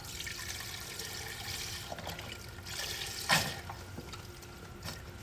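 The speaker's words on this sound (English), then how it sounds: "I'm gonna add probably half of this thing of vegetable broth" Vegetable broth poured into a pot of chuck roast beef soup, a soft steady trickle and splash running throughout, fairly faint, with a brief louder glug near the end.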